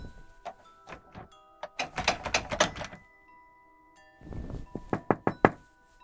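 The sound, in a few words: knocking sound effect in a horror story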